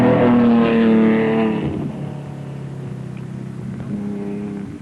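A Ford Escort rally car races along a road on the East African Safari Rally in 1971, its engine droning loud and strained before easing off and then climbing again, with no talk over it.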